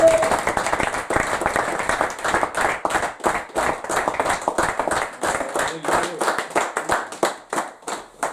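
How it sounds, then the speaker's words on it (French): A church congregation claps and applauds in praise, a dense run of rapid hand claps, loud and close, that swells and dips over several seconds with faint voices underneath. "Est-ce qu'on peut acclamer le Seigneur?"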